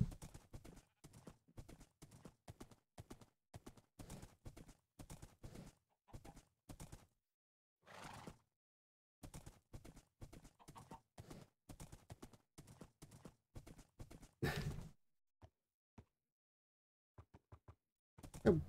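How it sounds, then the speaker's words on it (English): Rapid, rhythmic hoofbeats of a horse in Minecraft at a fast pace, clopping in bursts with brief pauses and a few louder knocks. "A big old horse."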